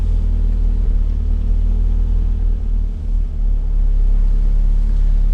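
A Volkswagen Parati turbo running on 70% ethanol idles just after starting, a loud, steady low rumble close by with a brief dip midway and no talk.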